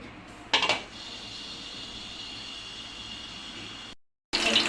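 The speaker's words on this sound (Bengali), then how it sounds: "এরপর আমি এই সাইডে একটা কড়াই বসাই দিচ্ছি" A metal kadai clanks down sharply onto a kitchen stove burner, a short close knock over a steady hiss of the flame, with another clatter of cookware near the end.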